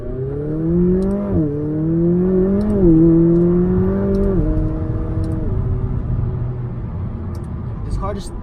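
A 2019 McLaren 570S Spider accelerates hard, its engine note climbing steadily in pitch with brief dips at gear shifts, loud and close from inside the cabin, with no talking.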